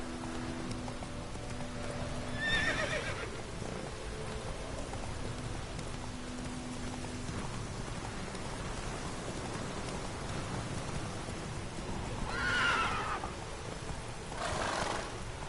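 A horse in the Witcher 3 video game neighs twice, early and again near the end, over a soft steady patter that may be rain or hooves.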